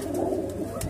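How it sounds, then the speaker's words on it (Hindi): A red-eyed female pigeon coos close up, a soft low throaty rolling call lasting about a second. "ये देखिए लाल आँखों की कबूतरी है, बहुत जबरदस्त है।"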